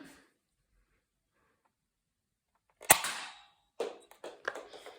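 A toy pistol loaded with a Nerf dart fires one sharp, close snap after a long quiet stretch, followed by several softer clacks and taps.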